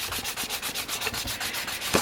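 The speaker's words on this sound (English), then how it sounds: "So if it's easier to sand it across than along with end grain" Hand sanding across the end grain of a wooden chair during restoration, a steady rhythmic back-and-forth rasp of about ten even strokes, close and alone.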